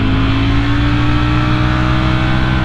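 A vehicle engine drones loud and steady in second gear at around 60 mph while climbing a steep, tight mountain road toward Cohutta Overlook, with a constant low rumble and wind roar and no speech.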